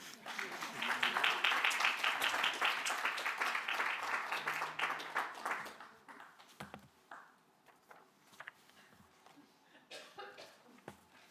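Audience applause at a stakeholder forum, dense and fairly loud clapping for about six seconds that then thins to scattered claps and a few soft laughs and taps.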